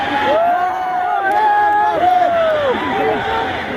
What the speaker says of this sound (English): The crowd is crazy.